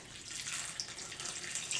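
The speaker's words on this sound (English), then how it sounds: "I'm gonna dump the water out." Water pours out of a seed tray of seed starting mix in a steady, close splashing trickle, like a small stream running into a sink, lasting under two seconds.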